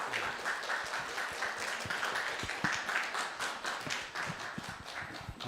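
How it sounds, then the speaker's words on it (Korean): A church congregation applauds to welcome a guest missionary preacher to the pulpit, a steady wash of many hands clapping across the sanctuary that carries on evenly throughout. "나오실 때 다 같이 한영의 박수 함께 인사드리도록 하겠습니다."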